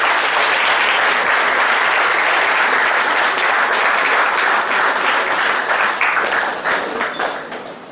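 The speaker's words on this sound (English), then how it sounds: "Big claps please" Sustained applause from a crowd at an Independence Day celebration as a man of the series cricket trophy is presented, dense steady clapping throughout that tapers slightly at the end.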